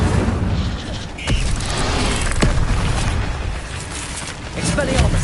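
An Incendio fire spell cast in a video game, bursting with whooshing flame and booming impacts against a busy game soundscape, with a player speaking over it.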